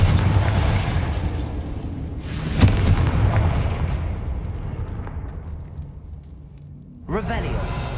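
Confringo blasting spell going off in Hogwarts Legacy: a loud sharp explosion with a rumbling tail that decays over several seconds, then a second burst near the end, over steady game background noise.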